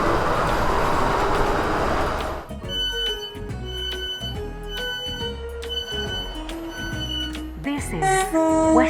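A train in the Roblox rail game SCR accelerates, a steady broadband rush giving way to rhythmic electric motor whine and clattering wheel beats over rail joints, loud and near, with a rising tone near the end.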